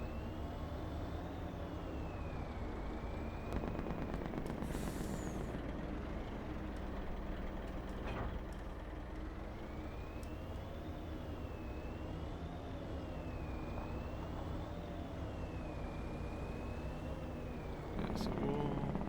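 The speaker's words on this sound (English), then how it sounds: "We love a good Jake brake sound." A heavy truck engine in Farming Simulator 25 drones steadily with rising and falling pitch, a rapid low stuttering Jake brake rumble underneath, and a voice talking over it throughout.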